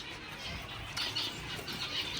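Finches in a home breeding setup flutter their wings and give faint, high chirps, a soft continuous rustle with brief calls, close and fairly quiet with no talking.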